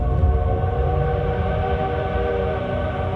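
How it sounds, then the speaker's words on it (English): Coal-fired steam locomotive running at track speed on a North Carolina line, a loud steady rumble and rhythmic clatter with a sustained whistle-like tone throughout. "Coal-fired steam locomotive operating,"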